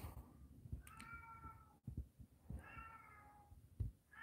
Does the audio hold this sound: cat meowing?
yes